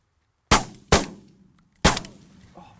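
Shotguns firing at pigeons on a border shoot: three sharp reports, the first two in quick succession and the third after a pause, each decaying into a short outdoor echo.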